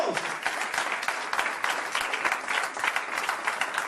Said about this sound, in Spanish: Den un aplauso a Jesucristo, gloria a Dios.